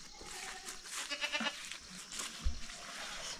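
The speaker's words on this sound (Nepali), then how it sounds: "किन करायो बाख्रा, घाँस त लगाएको होइन" Goats on a farm bleat in a few short, nasal calls amid busy outdoor background noise, moderately close but not loud.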